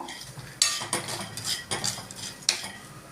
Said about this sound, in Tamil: அதுக்காக தான் இதெல்லாம் போட்டுட்டு நம்ம கொஞ்சம் வறுத்துக்கலாம்